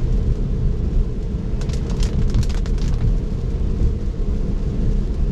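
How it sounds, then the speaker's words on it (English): Steady rain drums on a Tesla driving on the road, a dense, even hiss that fills the whole clip with no voices. "this rain's a lot lighter than it was when I first started"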